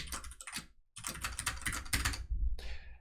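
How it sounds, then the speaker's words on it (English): Fast, uneven clatter of a computer keyboard being typed on at close range, bursts of keystrokes broken by short pauses, during a JavaScript coding session. "Does the keyboard sound different?"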